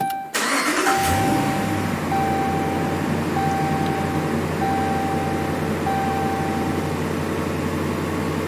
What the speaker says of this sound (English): Let's try shutting it off and restarting it.